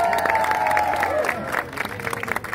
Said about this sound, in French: Je pense qu'on peut les applaudir bien fort.